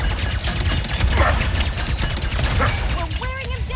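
Classic pistol fire in the video game Ratchet and Clank: Rift Apart, a dense run of rapid shots and clattering impacts amid busy game sounds, with a few brief chirpy tones near the end.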